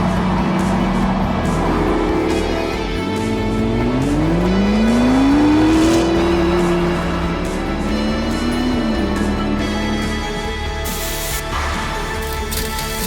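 Morgan sports cars drive past through British countryside, engine notes rising and falling as they approach, swell loudest mid-way and fade off, with tire noise and no talk.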